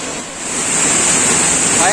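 Pulai waterfall in Tapaktuan roars as a steady, loud wash of falling water, a constant broadband rush with a bright hiss layered over it and no pauses.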